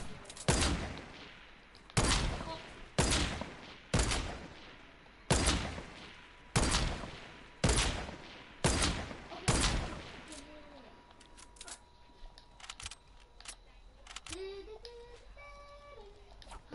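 Fortnite gunfire: eight loud, evenly spaced shots roughly a second apart, each with a short ringing tail, followed by several seconds of quieter game ambience with faint clicks and chimes.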